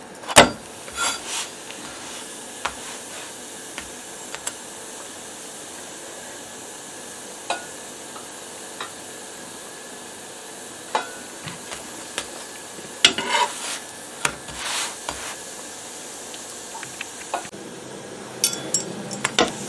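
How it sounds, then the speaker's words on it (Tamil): Chapatti cooks on a hot pan, with a soft constant sizzle under scattered scraping and tapping as a utensil turns and presses the flatbread, close and moderately quiet, no voices. "இப்போ இந்த சப்பாத்தி எல்லாம் குக் பண்ணிட்டுது"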